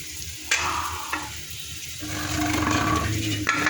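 Ground spices and sugar sizzle and fry in a pan as a spoon stirs them, a steady close hiss broken by a few scraping clacks, with no talking.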